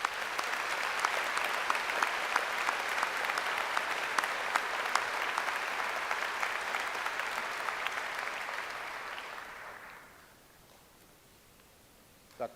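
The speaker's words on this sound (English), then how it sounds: "Please give them a round of applause." Sustained audience applause at a university commencement ceremony, dense even clapping from a large crowd for about ten seconds before fading to quiet room tone.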